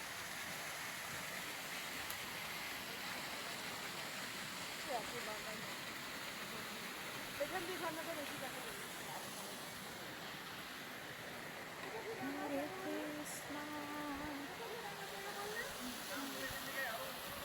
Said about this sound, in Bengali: জল নেমে আসছে পাহাড় থেকে